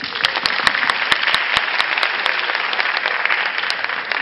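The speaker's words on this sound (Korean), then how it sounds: "박수 쳐주세요." Audience applause in a Korean training-camp lecture session after a participant answers a question, a dense, even burst of many hands clapping close by that carries through without talk.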